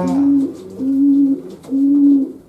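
Pigeons coo in three drawn-out, even calls with short pauses between, close and clear, kept as racing birds in a loft being readied for breeding.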